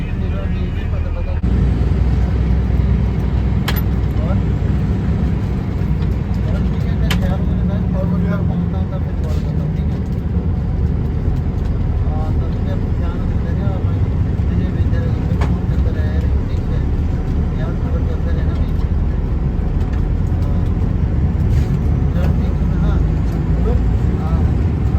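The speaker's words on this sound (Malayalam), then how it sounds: "അങ്ങനെ നമ്മുടെ വണ്ടി ഇതേ വിട്ടിരിക്കുകയാണ്." Bus departing Dehradun for Delhi and driving on, a steady low engine drone and road rumble filling the cabin throughout, with voices talking inside.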